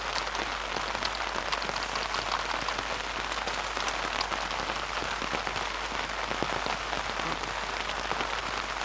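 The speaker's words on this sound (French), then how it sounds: "Vous voyez là il pleut bien dehors et je suis tranquille dans mon abside." Steady rain drums on a tent and its vestibule outdoors, a dense, even patter of countless drops holding at a constant level from start to finish with no voices.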